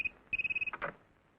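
A telephone rings on a call being placed in a Hindi film: a rapid pulsing ring tone, then a second longer burst of quick electronic pulses, fading into quiet with no talking.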